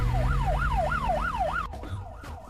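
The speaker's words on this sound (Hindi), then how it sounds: "ये तो पुलिस का सायरन है।" An ambulance siren wails in a steady rising-and-falling sweep for about a second and a half, loud and close over low engine rumble, then cuts off abruptly, leaving a quieter, muffled rumble.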